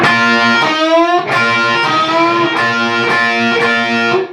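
Distorted electric guitar plays a short lick, with sliding string bends rising in pitch, then repeated picked notes, close and loud, with no voices.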